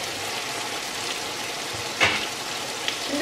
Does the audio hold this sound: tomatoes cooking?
yes